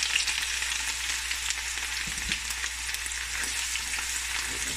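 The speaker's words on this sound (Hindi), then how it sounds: "इसको 2-3 मिनट के लिए हम सौते कर लेंगे। हाँ जी, लहसुन और अदरक जो है वो भी हमारा सौते हो गया है।" Ginger garlic paste sautéing with spices for chicken karahi, a dense, steady sizzle of hot oil throughout with faint stirring scrapes, close and unbroken.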